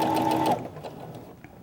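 A sewing machine runs a short, steady burst stitching a fine hairline seam in sheer floral fabric, the whir cutting off after about half a second and leaving quiet room tone.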